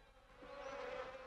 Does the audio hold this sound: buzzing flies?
yes